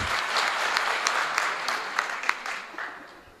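Audience applause at a live Hindi poetry recital (kavi sammelan), a steady wash of many hands clapping throughout with a few louder individual claps standing out, gradually thinning toward the end.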